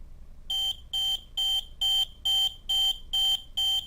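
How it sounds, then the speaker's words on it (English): A CK-3 LED digital lab timer alarm beeps eight times in a steady, evenly spaced rhythm, each beep a short, bright, high-pitched tone, close and clear. "It flashes and beeps for 10 seconds and then stops."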